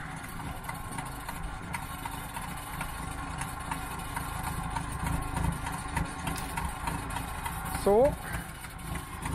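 A tractor engine runs steadily throughout potato harvesting in an old field, a constant mid-pitched drone with a brief louder whine near the end, while someone speaks a word over it.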